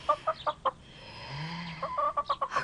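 Chickens cluck in a Korean radio drama, a series of short, close clucks in two bursts with a brief lull between them.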